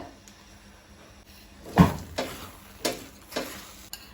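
A spoon stirs a thick chana dal and cardamom mixture for Goan dal halwa in a pan, giving several distinct scraping knocks spaced about a second apart over a faint low sizzle.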